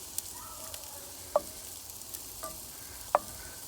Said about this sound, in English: We're gonna let them go, let them get a good sear there.